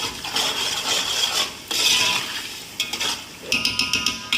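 Chicken macaroni with green chilies being stirred in a pan, with scraping spoon strokes over a soft sizzle, then a run of quick metallic taps against the pan near the end, close and clear, no speech.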